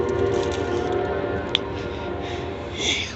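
A CSX train passing with a steady low rumble of rolling wagons, a brief sharp squeal midway and a faint horn-like tone near the end, no talking.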